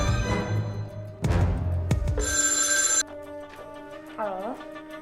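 A telephone rings in a tense Indonesian film scene, with repeated electronic ring bursts mixed among clattering noises, a sharp bright tone, and a warbling sound.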